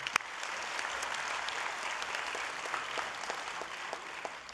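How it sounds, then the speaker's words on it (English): Applause from the audience at a county government board meeting, steady clapping across the room at moderate, somewhat distant level, with a few sharper claps standing out. "Let's give a round of applause."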